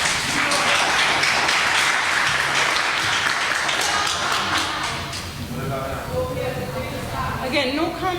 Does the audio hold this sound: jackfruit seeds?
no